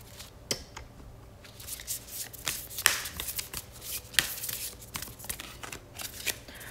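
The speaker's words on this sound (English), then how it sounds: "I'm gonna do one more shuffle" A deck of tarot cards is shuffled by hand in repeated riffling bursts, crisp papery flutters and slaps close up, with no talk.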